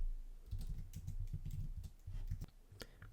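Fingers type on a computer keyboard in quick, irregular bursts of close, crisp key clicks with short pauses between runs.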